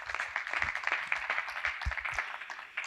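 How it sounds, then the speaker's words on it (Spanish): Audience at an architecture networking event applauding, a brief, moderately loud burst of scattered clapping that fades toward the end. "Óscar, un fuerte aplauso para él."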